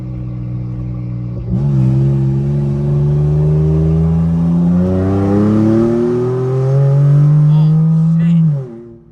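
Infiniti Q60 engine revving hard after a lightweight battery install, rising steadily in pitch over several seconds of loud, close acceleration before cutting off abruptly near the end.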